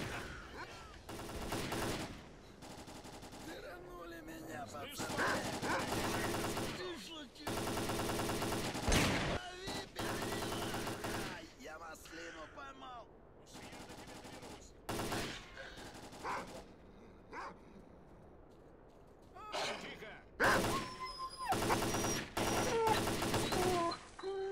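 Gunfire in the S.T.A.L.K.E.R.: Call of Pripyat video game, repeated bursts of automatic shots and single cracks at moderate distance, coming in irregular clusters with short gaps, with occasional talk over the shooting.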